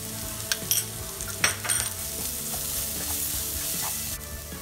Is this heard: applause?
no